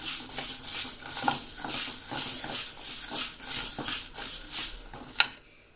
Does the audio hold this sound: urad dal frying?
yes